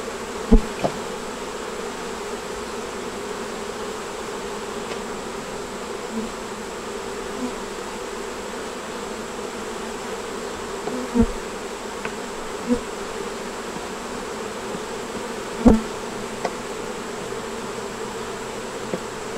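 Honey bees buzz around an open hive frame loaded with brood and eggs, a steady even drone from many bees close by, with a few sharp clicks and knocks now and then.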